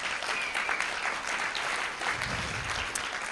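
An audience at an environmental forum on fracking in Marin claps steadily throughout, dense and moderately loud.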